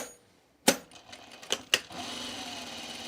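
A sewing machine stitches a dart on a V-neck coat, giving a few short, close mechanical bursts of clatter followed by a steady low running hum, with no talking.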